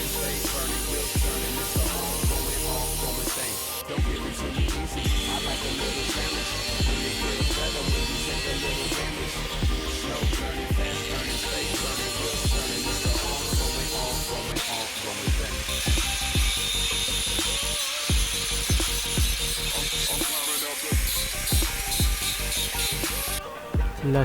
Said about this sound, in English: smooth the uneven surface using the grinder machine and also remove sharp surface by using the grinder machine